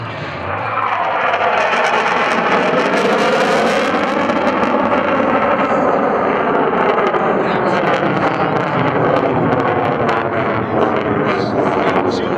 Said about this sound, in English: The Navy's FA-18 Super Hornet will carve a square loop in the sky